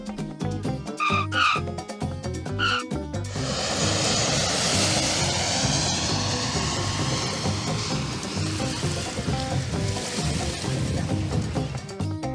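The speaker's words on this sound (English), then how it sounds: "you can see a breathtaking sight as planes land overhead" An airplane landing low over a beach in Cyprus roars loudly overhead, building from quiet into a sustained, heavy rumble with a rising whine that fills the rest of the clip.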